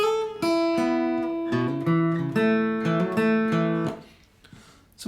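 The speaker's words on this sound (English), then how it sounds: "There's a nice lead riff in the song too that sounds like this." Acoustic guitar plays the lead riff from a song alone, a bright run of picked notes with hammer-ons and pull-offs over ringing strings, ending in a short fading decay.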